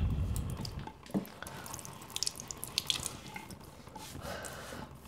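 Water is poured over hair into a sink while the scalp is massaged, producing soft splashing and scattered drips, with a few sharper splats midway, all close and fairly quiet.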